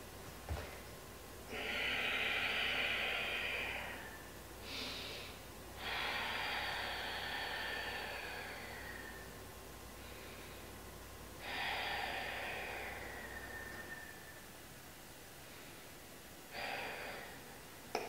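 Deep yoga breathing held over three slow breaths, long airy inhales and exhales, close and fairly loud, with short pauses between them and no talking.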